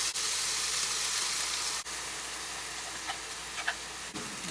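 Pork empanada filling stirred in a pan: a steady bright sizzle throughout, with a couple of soft knocks and light scraping taps from the utensil toward the end.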